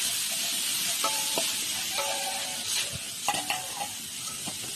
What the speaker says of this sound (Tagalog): igisa rin natin yung atay para mabawasan yung ating lansa ng atay